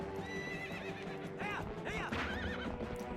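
A horse whinnies repeatedly with high, wavering neighs during a horseback fight in The Legend of Zelda: Twilight Princess HD, over steady background music and hoofbeats.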